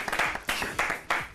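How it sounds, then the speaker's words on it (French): A studio audience at an Ivorian evening TV variety show claps in brief, uneven bursts, fairly faint and lasting only a moment. "On va applaudir."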